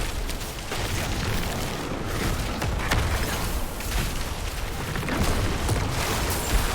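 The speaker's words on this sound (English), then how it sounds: "There's explosions in the ground" A continuous, loud rumble of explosions and booming blasts from the ground in Diablo 4, dense and sustained without pause.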